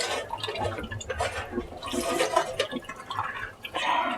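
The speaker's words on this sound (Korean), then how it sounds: "물이 잘 나가고 있습니다." Water under fairly strong pressure rushes and gurgles out of a water purifier filter being flushed, a continuous splashing flow that swells and dips.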